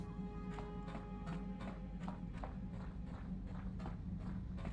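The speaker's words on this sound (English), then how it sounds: "You hear the echo of footsteps coming from the direction of the cargo hold." Steady footsteps echo through a starship interior in Star Wars: Knights of the Old Republic on the original Xbox, a regular run of about a dozen hard taps over a low constant hum, with no talking.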